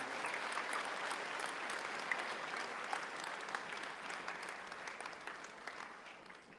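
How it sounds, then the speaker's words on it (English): An audience applauds in a sustained, dense patter of many hands, steady and fairly distant, holding an even level from start to finish. "Please, let's clap one more time"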